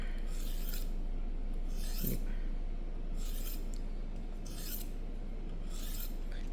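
A knife blade is drawn across a 3000 grit sharpening stone in about five even rasping strokes, each a short, close scrape spaced roughly a second apart.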